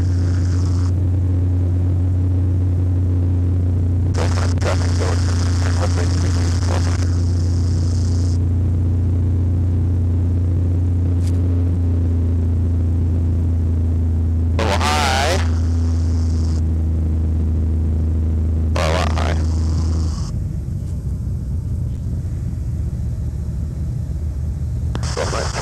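Super Stinson 108-1 light airplane with a Franklin 220 engine at reduced power, a loud, steady cabin drone with a deep hum that drops in pitch and tone near the end, with brief bursts of other noise over it.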